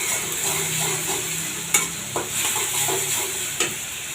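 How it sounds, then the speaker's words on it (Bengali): Ginger-garlic paste sizzles steadily in hot oil for mutton rezala while a spoon scrapes and knocks against the pan every so often during stirring. "এখন ভালো করে আদা রসুনের গন্ধ দেওয়া পর্যন্ত ভালো করে নাড়তে থাকবো।"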